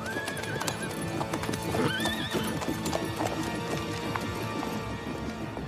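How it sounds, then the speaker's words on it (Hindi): A horse clip-clops steadily with hooves striking ground, joined by a couple of clear neighs and whinnies, all set against a busy background with light activity throughout. "वो घोड़ा मेरा है।"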